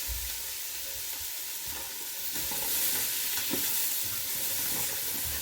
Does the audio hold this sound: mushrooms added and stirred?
yes